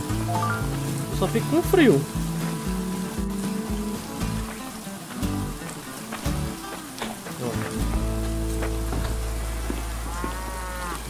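Rain falling on a farm with animals in a survival farming video game, a steady hiss of rainfall heard beneath someone talking, along with game sounds.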